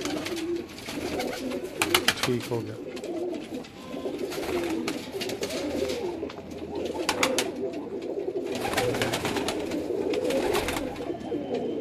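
Domestic pigeons cooing at a Multan colony loft, soft repeated coos continuing throughout under background noise, with a brief spoken remark and occasional sharper sounds.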